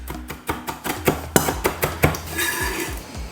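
A knife chops rapidly on a cutting board, a quick series of sharp taps in a steady rhythm that speeds into lighter, softer cuts.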